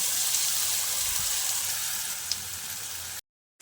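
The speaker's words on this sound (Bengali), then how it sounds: "এবার ফোড়নটাকে কিছুক্ষণ ভেজে নিতে হবে।" Whole spices tempering in hot oil for a Bengali vegetarian dish give a steady, fairly loud sizzle with a faint crackle. It then cuts off abruptly into near silence just before the end.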